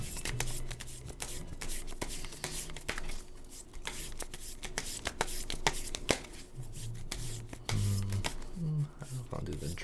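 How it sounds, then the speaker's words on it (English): Repeated crisp riffling and snapping of playing cards being shuffled close up, in quick bursts, while a person talks quietly underneath. "I'm gonna start shuffling."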